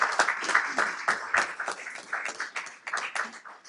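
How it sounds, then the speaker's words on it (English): A room at a legislative meeting bursts into sustained applause for a head coach being honored, many hands clapping densely and steadily at close range for the whole stretch, with no voices rising above it. "That deserves a round of applause."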